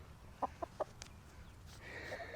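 A chicken that is molting and has lost most of its feathers clucks three short times just after being set down, fairly faint, followed by soft rustling.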